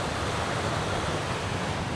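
Sea waves at Masasa Beach on Tingloy Island, Batangas, make a steady, loud wash of surf mixed with wind rush across the whole stretch.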